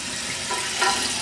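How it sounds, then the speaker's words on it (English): A newly installed toilet's tank refills with water, giving a steady, close hissing rush of flow with slight gurgling, heard alone for a brief moment. "And the tank should fill up."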